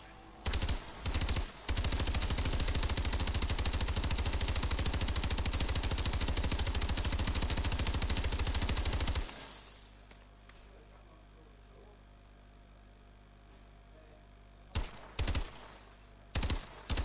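Automatic gun fire in a PS4 shooter, a loud, continuous rapid burst lasting several seconds, then a lull of game ambience before a few more short, sharp bursts near the end.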